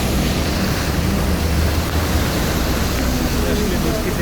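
Heavy monsoon rain pours down on a flooded street in Dhaka, a close, steady, hissing roar that fills the scene without a break, and a voice talks faintly beneath it.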